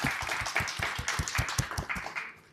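Audience applause for startup founders, a short burst of close, rhythmic clapping with a few distinct hands standing out, tapering off over a couple of seconds.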